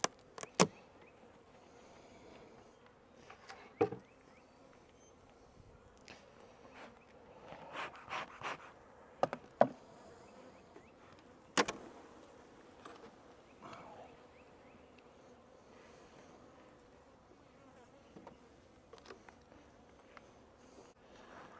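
Honey bees humming inside a double deep hive during an inspection, a faint steady buzz close by, broken by scattered clicks and knocks of frames and equipment.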